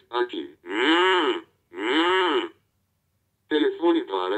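A 1990s Tec Toy Tele Papo toy telephone plays a recorded cow mooing in three long, loud, close calls separated by brief silences.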